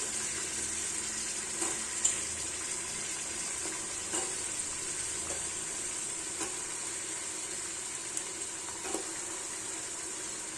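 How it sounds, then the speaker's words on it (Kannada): Chopped potatoes fry in a pan while cooking flat beans bath, a steady soft sizzle with light stirring scrapes recurring every second or two, no talk. "ಸೊ ಆಲೂಗೆಡ್ಡೆನ ಹಾಕ್ತಾ ಇದ್ದೀನಿ."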